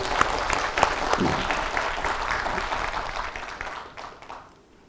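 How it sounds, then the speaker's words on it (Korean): A lecture audience in Andong breaks into applause, a dense crowd of claps at full strength that holds for a few seconds and then thins and fades out near the end. "맞다고 생각하면 박수 한번 쳐보십시오"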